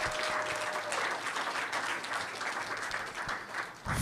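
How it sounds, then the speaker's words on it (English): Applause at a school board meeting as a student of the month is recognized, a full room clapping steadily and fairly loud for several seconds, without speech. "Clap it up for Dax, please."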